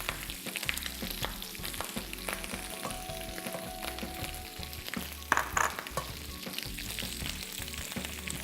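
Prawns frying in a pan as butter goes in, a continuous close sizzle with light stirring clatter and one louder spit midway, no voices.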